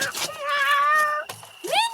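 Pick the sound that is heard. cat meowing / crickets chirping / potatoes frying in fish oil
cat meowing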